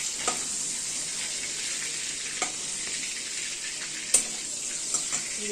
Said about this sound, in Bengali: চিংড়ি মাছ ভাজা হয়ে গেছে